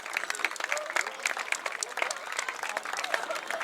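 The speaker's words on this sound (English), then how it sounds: "Nice hand from the crowd." Crowd applauding an injured player at a high school football game between Dover-Sherborn and Millis, steady moderate clapping from the stands lasting the whole moment, slightly distant.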